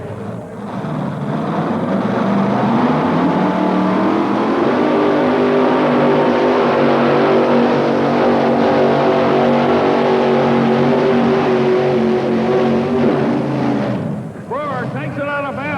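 A pulling vehicle's engine roars loud and sustained at a 1987 truck and tractor pull in Louisville, Kentucky, rising in pitch as it strains down the track, with an announcer talking over it.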